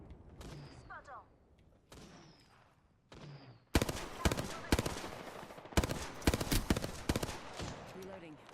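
Gunfire rings out in the video game Apex Legends: after quieter moments of talk and movement, loud sharp shots crack in quick bursts, with a voice speaking between them.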